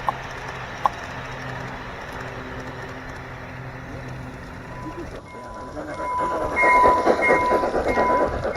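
A G-scale model train runs on interior display tracks at the Fairplex fair, a steady rolling rumble with clicking rail joints that grows louder and nearer toward the end, with people talking over it.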